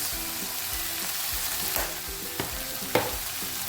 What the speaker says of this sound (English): Now I'm going to stir everything to combine.